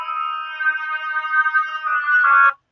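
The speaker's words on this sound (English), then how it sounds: "Oboe is a double reed instrument." A solo oboe, a double reed instrument, holds a sustained clear note that shifts pitch near the end, played alone and close with a reedy, bright tone.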